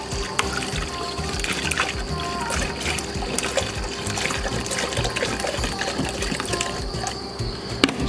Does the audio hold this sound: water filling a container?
yes